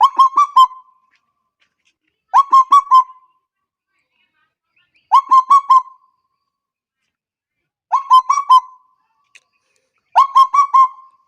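A man mimics the call of a ketaki bird, giving five bursts of quick, bright warbling notes spaced a couple of seconds apart. Each burst is loud and close, with silence in between.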